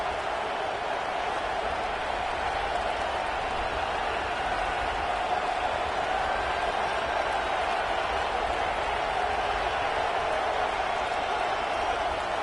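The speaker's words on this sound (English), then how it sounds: "This crowd trying to do its part to get inside the kicker's head." A college football stadium crowd roars steadily through the closing seconds of the first half, a dense, loud wash of massed voices with no breaks.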